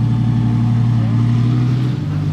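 Lamborghini Huracan Performante and Ferrari 458 Aperta convertibles pass close by with a loud, steady low engine drone, ending in a brief dip as the sound shifts.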